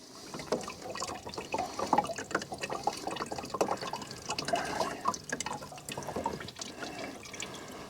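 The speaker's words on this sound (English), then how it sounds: "And so we're slowly draining it" Cleaning liquid drains slowly out of a 1930 Ford Model A gas tank, a continuous close trickle with irregular drips and splashes.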